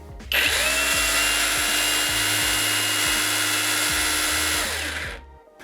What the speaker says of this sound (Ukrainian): А, звичайно, це звук перфоратора.